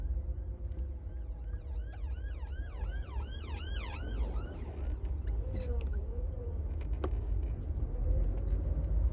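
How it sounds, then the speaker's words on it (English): An ambulance siren near an ambulance depot wails in rising and falling sweeps as the vehicle passes close by, strong at first and then fading under steady road traffic rumble. "So you get a lot of this, almost every other day there's an ambulance coming"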